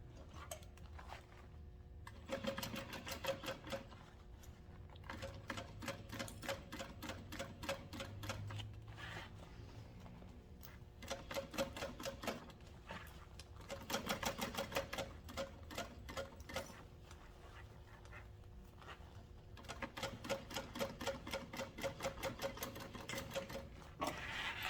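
A sewing machine stitches a tote bag seam at a half-inch allowance in quick, rapid bursts, with short pauses between runs of stitching, heard close and fairly quiet with no talking.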